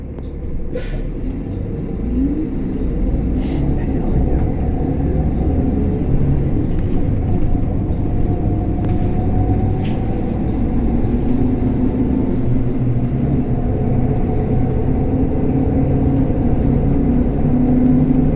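Inside a city bus heading toward the Halifax side, a steady loud low engine rumble and road noise continue throughout, with a few brief sharp clicks or hisses near the start.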